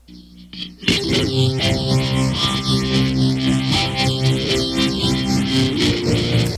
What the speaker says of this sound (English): So this guitar track right here has been here the whole time.